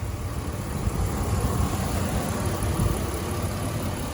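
A 2008 Dodge Ram 1500 two-wheel-drive pickup with a 3.7 liter V6 idles smoothly, a steady low engine rumble with even tone and no revving, close by and alone.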